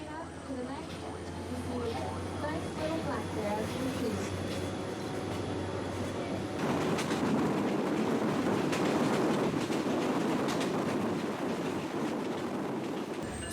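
A passenger train running on rails between Seward and Anchorage in Alaska, heard from aboard: a steady rumbling roll with faint rhythmic clatter that grows louder and rougher partway through.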